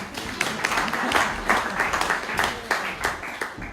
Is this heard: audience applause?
yes